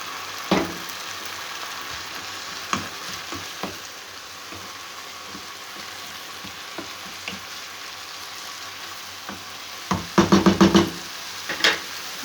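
Onion and then carrots fry in a pan with a steady, faint sizzle, broken by sparse clicks and knocks of stirring and a short burst of clattering near the end.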